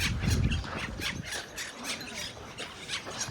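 Birds squawk and squeal in short repeated calls, moderately close, at Park Güell in Barcelona, over a soft rumbling background.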